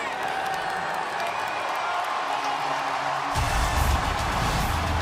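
A packed stadium crowd roars before the Alabama at Florida kickoff, a dense sustained wash of cheering that swells louder near the end, with a commentator's voice over it.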